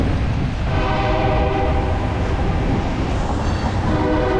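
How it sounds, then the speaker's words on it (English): A loud freight train rolls past nearby, a heavy continuous rumble with metallic squeals and rattling cars. "Freight train."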